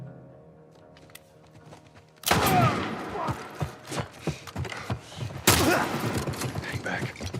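Heavy blasts in The Last of Us remake, likely shotgun fire: two sharp, loud booms a few seconds apart, each trailing into clattering movement and thuds, after a quiet start.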